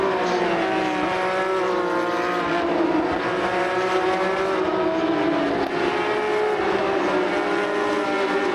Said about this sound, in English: That's a lot of GT3s all in one place.